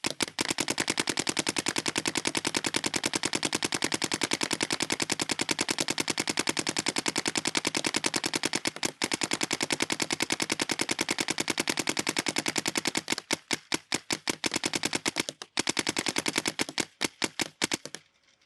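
A Planet Eclipse CS3 paintball marker fires rapidly through a loaded pod in one long, steady, loud burst of closely spaced shots, briefly pausing near nine seconds and breaking into uneven, stuttering shots toward the end.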